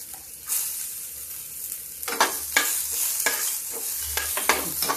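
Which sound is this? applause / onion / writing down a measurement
onion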